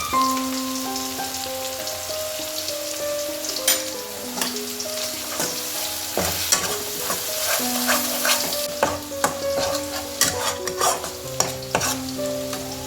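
Garlic, ginger and green chilli paste sizzles and crackles steadily in a hot pan for Bengali doi katla fish curry, with sharp spatter pops throughout and a melodic tune playing underneath.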